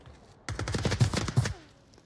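A single loud, rapid burst of automatic gunfire lasting about a second during a competitive match of the VR shooter Onward, ringing off briefly into quiet afterward.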